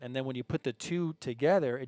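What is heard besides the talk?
No everyday noise stands out behind the speech.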